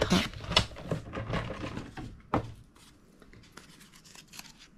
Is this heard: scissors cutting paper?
yes